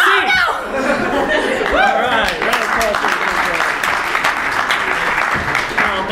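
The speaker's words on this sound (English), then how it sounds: "round of applause" An audience at a live improv comedy show breaks into loud, sustained applause mixed with scattered laughter and chatter, continuous clapping filling the whole stretch.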